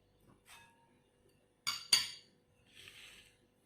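A utensil knocks and clinks against a bowl while egg, chili, black pepper and chicken powder are mixed for Arabic kebab: two sharp clinks close together, then a softer scraping stir in an otherwise quiet room.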